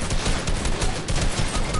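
AK rifle fire in a shooter game, a dense, sustained crackle of automatic shots heard close and loud for a couple of seconds without pause.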